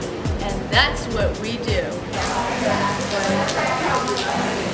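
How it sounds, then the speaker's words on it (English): A torrential rain downpour hisses steadily onto surfaces around an overhang during an outdoor pageant fashion shoot, while people talk close by over the constant wash of rain. "a torrential downpour just came out of nowhere"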